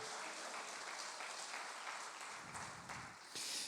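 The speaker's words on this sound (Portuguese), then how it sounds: "As palmas para o Senhor" A congregation claps during a church service, a dense wash of applause that stays steady for a few seconds and then fades out.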